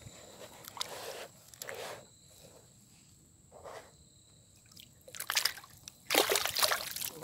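A peacock bass caught on a fishing lure thrashing at the water's surface, several short bursts of splashing and dribbling water, close and growing louder toward the end over a faint insect hum.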